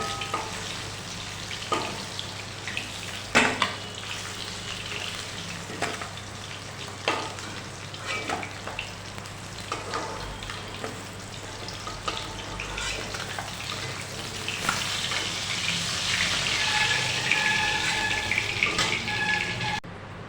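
Fish pieces frying in hot oil for a ruhi/pona fish curry with taro and potato, a steady close sizzle with scattered clicks and clatters, rising to a brighter, louder hiss in the final seconds, with no talking.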